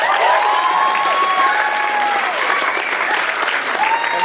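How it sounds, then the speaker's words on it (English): Gala audience claps loudly and continuously, with a few whistles cutting over the sustained applause. "This is a good time for applause."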